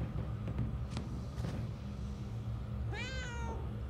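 A cat meows once in the video game Murdered: Soul Suspect, a clear rising and falling call near the end, heard alone over a steady low ambient game hum.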